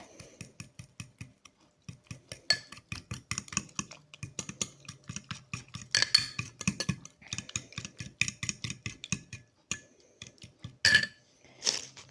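Chocolate being stirred into butter in a bowl, a run of quick, fairly regular tapping clicks of a utensil against the bowl, with brief pauses and a few brighter clinks, close and quiet.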